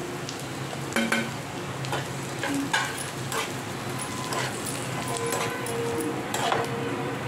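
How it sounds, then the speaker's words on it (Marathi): Grated coconut roasting with fried onions in a pan, stirred steadily: a continuous soft sizzle runs under scraping spoon strokes and occasional light clinks against the metal pan. "कांद्यामध्येच खोबरं टाकून भाजून घेणार आहे चांगलं"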